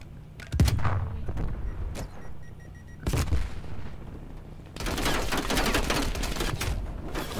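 Rapid bursts of gunfire in Call of Duty Black Ops Cold War, sharp cracks at the start and again midway, then a dense, sustained barrage of shots, loud and close.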